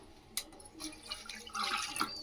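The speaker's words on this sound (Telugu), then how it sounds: "నీళ్ళు పోతున్నాం" Water pours and splashes steadily at moderate volume, with a few brief drips and clinks near the end. No voices.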